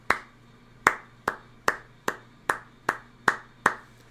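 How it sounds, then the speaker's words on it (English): Hands clap a steady run of eighth notes, nine crisp, evenly spaced claps close by with short room ring after each, alone without talk. "you try and clap those in eighth notes"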